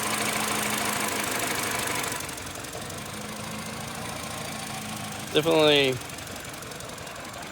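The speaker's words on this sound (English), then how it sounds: "it's a little Mini Cooper and it's running pretty rough" A Mini Cooper engine with the check engine light on idles roughly after a reported pop, a steady, uneven low rumble with a faint irregular knock, running continuously while someone briefly speaks over it.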